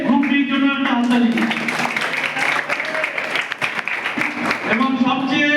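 An audience at a school road safety week event claps for group D: a stretch of mixed clapping rises under a voice, which is heard at the start and again at the end.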